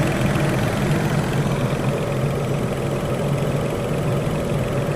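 A steady, loud whooshing hum of a Volkswagen Up's radiator cooling fan runs without pause while the engine overheats, a broad constant drone close at hand.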